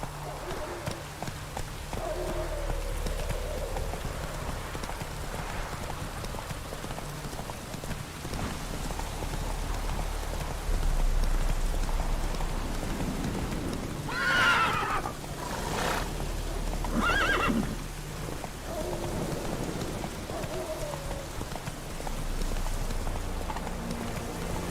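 Hooves clop steadily as a horse is ridden in The Witcher 3 video game, a muffled, continuous rhythm under ambient game sound and rain, with voices speaking over it in the middle.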